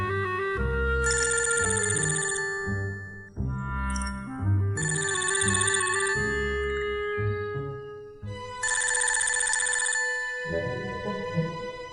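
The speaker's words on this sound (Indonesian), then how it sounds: "Bunyinya, kayaknya HP bunyi" A mobile phone rings indoors with a bright, repeating electronic tone in three long bursts, loud and clear over a layer of background music.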